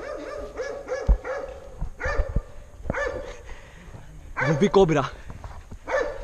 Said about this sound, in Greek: Τα σκυλιά φωνάζουν.